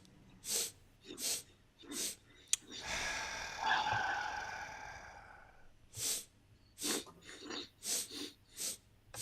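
Several sharp sniffs through the nose followed by a long, audible sigh out, then more quick breaths, near and clear with no talking over it.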